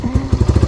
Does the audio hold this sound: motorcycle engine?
yes